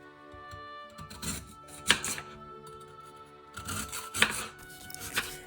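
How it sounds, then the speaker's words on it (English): A knife cuts lotus root into thin round slices about half a centimetre thick, giving sharp crisp chops against a board, spaced irregularly with a few louder strokes, close by and with no talking. "Slice it into thin, round pieces of lotus root."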